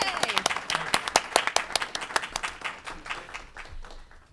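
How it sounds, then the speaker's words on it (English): Applause from an audience at a university event, a scattered burst of clapping that is loud at first and then thins and fades over a few seconds, with some voices mixed in. "Applause, everybody."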